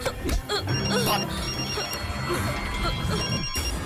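A phone rings steadily in the background under overlapping tense voices, the electronic ring tone repeating throughout.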